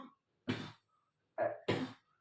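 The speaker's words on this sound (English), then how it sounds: "as I speak for too long, I start coughing" A man coughs indoors, one short cough, a pause, then two quick coughs in a row, all close and clear with no talk.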